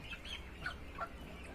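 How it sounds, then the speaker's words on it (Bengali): Ducks and chickens feeding cluck faintly in short soft bursts, heard from a distance over a low background rumble. "হাঁস মুরগি খাচ্ছে"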